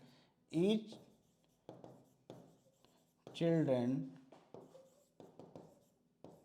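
Marker or chalk strokes on a classroom board during a Class 8 maths lesson, a series of short scratchy bursts spaced through the passage, close and clear, with a teacher speaking intermittently between them.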